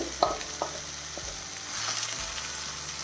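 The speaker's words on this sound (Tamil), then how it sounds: "ஒரு ரெண்டு நிமிஷம் இந்த மாதிரி கிளறி விட்டுடலாம்" Marinated chicken pieces frying in masala curry while being stirred, a soft continuous sizzle with a few sharp spoon knocks against the pan near the start.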